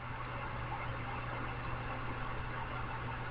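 Steady synthetic rocket engine drone from Kerbal Space Program, throttled up, a continuous broadband roar with a low hum beneath, holding at constant loudness for the whole stretch with no talk.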